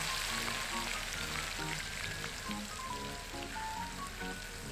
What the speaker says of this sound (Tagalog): Piniprito ko lang ito ha